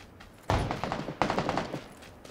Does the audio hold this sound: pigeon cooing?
no